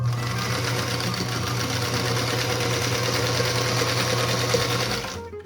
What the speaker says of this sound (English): I'm starting out by sewing 2 of my triangles together.